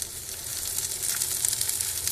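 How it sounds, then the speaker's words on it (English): Panko-crusted okra sizzles and crackles steadily in hot oil, with scattered small pops over a continuous hiss. "I hear that pop sizzle"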